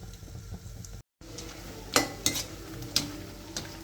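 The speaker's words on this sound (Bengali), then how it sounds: "এখন এটাকে ফুলফিলভাবে আমি ভেজে ফেলবো" Semolina pitha frying in hot oil in a pan, a soft steady sizzle with several sharp scraping and stirring clinks of a utensil, no talk.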